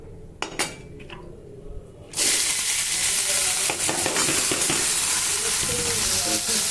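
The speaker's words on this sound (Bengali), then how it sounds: "উচ্ছে আলু দিয়ে নুন হলুদ দিয়ে ভেজে নেবো লাল লাল করে" A few clinks of a utensil come first, then bitter gourd and potato with salt and turmeric hit a hot pan and break into a loud, continuous sizzle that holds steadily to the end.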